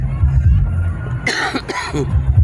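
A single loud, close cough bursts out over a low background hum, followed by a short second cough.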